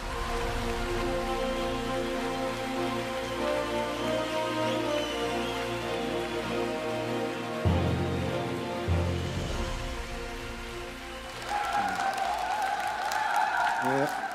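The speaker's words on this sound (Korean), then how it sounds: "여러분 박수로 환영해 주시기 바랍니다." An audience at a televised Korean music awards show applauding to welcome a presenter, a sustained wash of clapping under a held musical tone, with the clapping swelling again near the end.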